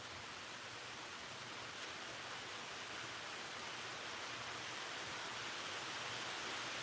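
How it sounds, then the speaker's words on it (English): Steady, even hiss of rain falling, constant and fairly faint, with no voices or other distinct sounds. "It's raining for real."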